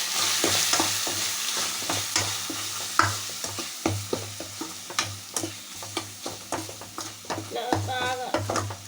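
A spiced tataku fish curry with turmeric and chili is stirred in a sizzling pan, with rhythmic scraping strokes repeating steadily over a soft frying hiss.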